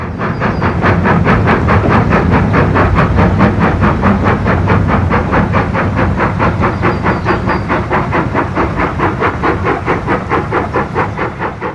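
Steam locomotive 281, a New Zealand engine, hauls a mixed train near Waihi with a loud, steady rhythm of rapid chuffs and hissing steam, close and continuous throughout.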